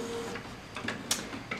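An HP C6380 inkjet printer warms up to print with soft mechanical ticks and brief whirs over a hissy background, fairly quiet and close.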